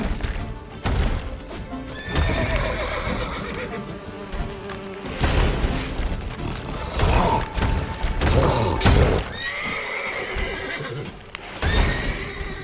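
Roach, a horse in The Witcher 3 video game, whinnies loudly several times over rapid galloping hoofbeats, with a steady insect-like buzz beneath and bursts of game effects throughout.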